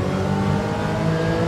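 Car engine revving in Gran Turismo 7 played with a steering wheel, a loud steady mid-pitched engine drone without speech.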